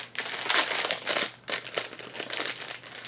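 Plastic wrapping around a Kit Kat–themed makeup pouch crinkles and rustles as it is opened, two close bursts of crumpling with a brief pause between, no talking.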